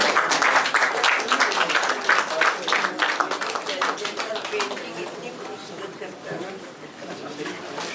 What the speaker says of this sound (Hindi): तालियां तो बजनी चाहिए कि नहीं?